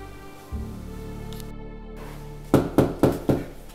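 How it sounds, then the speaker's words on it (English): Four firm knocks land on a door in quick, evenly spaced succession, close and distinct, after a quiet stretch of low steady hum in an indoor room. "I wonder who is there at the door again."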